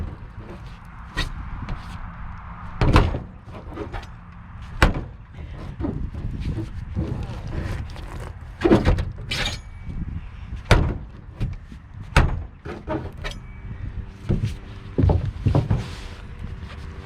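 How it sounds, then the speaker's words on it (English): A Sting replica sword tip stabs repeatedly at a vehicle roof, giving sharp, loud metallic thuds and knocks at irregular intervals with short gaps of handling noise between them. "All right, Sting sword, see how well the tip holds up, stabbing at the roof of the vehicle."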